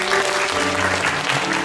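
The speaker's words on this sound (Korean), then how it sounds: "우리 인사할 때 크게 박수 쳐주세요." A church congregation claps loudly and steadily throughout a Sunday service, a dense, continuous wash of applause with a faint murmur of voices beneath.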